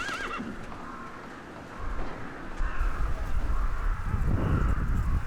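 A horse on a Jeju farm, with crows gathering around its hay and feed trough, gives a brief wavering whinny at the start. Crow calls and shuffling follow, with a steady outdoor rumble underneath.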